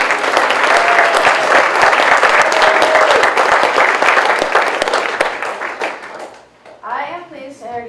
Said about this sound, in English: We'd like to give them a round of applause as well.